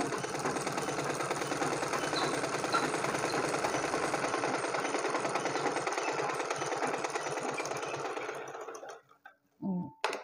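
A sewing machine runs steadily while stitching a blouse, a continuous close whirring hum lasting about nine seconds before stopping abruptly, followed by a couple of brief soft knocks.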